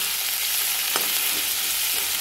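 Onion frying in hot oil with garlic ginger paste for cabbage manchurian, a steady close sizzling hiss with a few soft stirring knocks.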